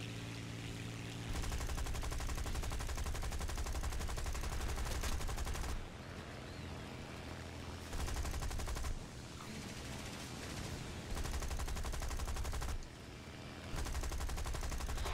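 Gunfire in War Thunder, sustained machine-gun fusillades in long rapid bursts that stop and start every few seconds, loud and dense with no talking over them.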